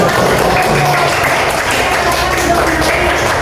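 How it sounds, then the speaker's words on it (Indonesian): Students in a classroom give a group a steady wash of clapping that runs throughout, with voices talking over it. "tepuk tangan untuk kelompok"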